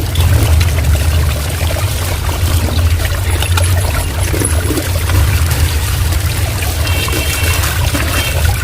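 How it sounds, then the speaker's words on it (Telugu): Drumstick (moringa) leaves being washed with water, a steady loud rush of pouring and trickling water with splashing that runs throughout without a break and without voices. "తర్వాత దాన్ని శుభ్రంగా ఇలా నీటితో కడిగి పెట్టేస్తున్నాను"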